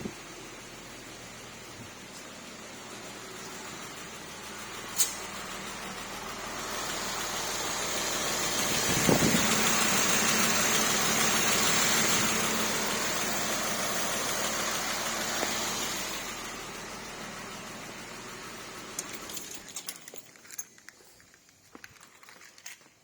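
A Porsche 997 C4S engine idles steadily after a power steering rack repair, a broad mid-level running drone that swells slightly through the middle, with a few clicks and knocks near the end as the sound thins out.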